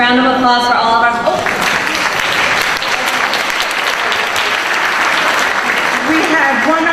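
A round of applause breaks out among attendees at a board of education meeting, strong and sustained for several seconds. A voice is heard briefly at the start and end as the clapping fades.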